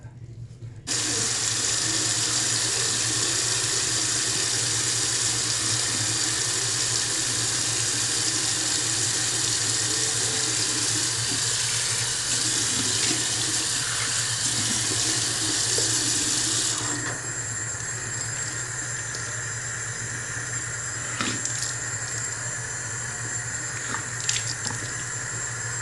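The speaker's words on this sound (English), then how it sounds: "Always want to wash your face up and out." Tap water running steadily into a bathroom sink while a face is washed, a constant close hiss with a few faint splashes and knocks toward the end.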